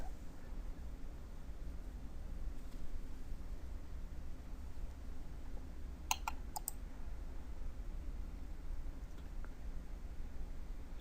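A computer mouse gives two or three quick, soft clicks midway through a steady low electronic hum.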